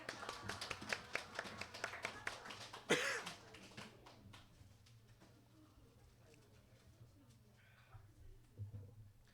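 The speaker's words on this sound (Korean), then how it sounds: "고생한 친구들한테 우리 박수 한번 보내겠습니다." Children clapping during an online elementary church service, a few seconds of scattered, close claps that thin out, followed by a cough and quiet room noise.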